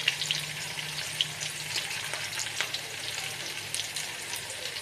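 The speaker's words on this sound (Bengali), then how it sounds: "তোমরা দেখতেই পাচ্ছ এঁচোড়টা সুন্দর করে ভাজা হয়ে গেছে" Young jackfruit fries in a pan with a soft, even sizzle at moderate distance, punctuated by scattered crackles and an occasional faint stirring tap, fairly quiet and continuous, with no talking.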